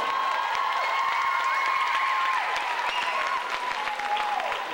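Audience applause at a belly dance show, a full, sustained roar of clapping with a little cheering mixed in, while a tonal hum of music or feedback runs underneath throughout.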